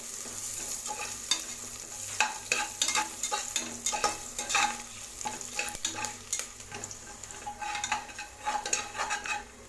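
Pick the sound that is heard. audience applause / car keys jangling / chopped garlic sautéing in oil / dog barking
chopped garlic sautéing in oil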